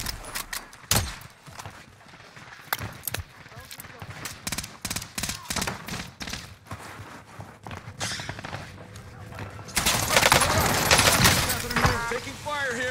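Gunfire rattles through a Call of Duty Warzone match on Rebirth Island, with bursts of shots and impacts. A heavier, denser volley breaks out near the end, and game voice lines play under it.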